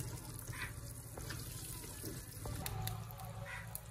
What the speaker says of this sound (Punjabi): ਦੇਖੋ ਸਸਰੋਂ ਦਾ ਤੇਲ ਆ ਵਿੱਚ ਮੱਛੀ ਤਲੀ ਰਹੀ ਆ